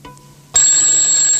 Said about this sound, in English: Rhubarb's alarm clock was getting a bit wound up about ringing